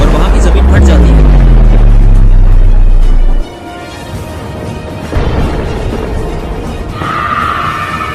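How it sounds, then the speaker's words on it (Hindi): A cartoon lightning strike sets off a huge explosion that tears open the ground: a loud, deep boom rolls for about three seconds, then drops to a softer rumbling aftermath with crackling debris. "उस बिजली के गिरने से वहाँ पे बड़ा सा धमाका होता है"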